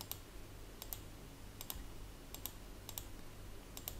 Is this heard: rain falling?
no